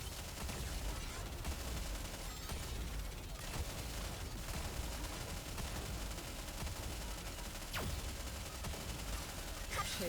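Dense gunfire volley from the squad shooter game NIKKE, a continuous loud barrage of overlapping shots and impacts with a heavier boom near the end, over faint game music.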